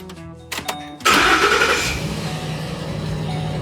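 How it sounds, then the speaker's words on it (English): A Ford truck engine cranks with a couple of short starter bursts, then catches and settles into a steady idle, loud and close. "Last thing to do is to run the engine"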